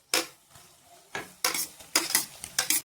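Chopped tomato goes into a pan of frying onions, producing a few sharp clattering bursts of spoon and pan contact over a faint sizzle, close and distinct, with brief quiet gaps between them.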